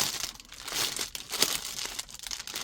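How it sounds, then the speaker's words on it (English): Paper and envelopes handled and crinkled up close, a continuous rustling and crackling with bursts of louder crumpling. "So this is paper and envelopes."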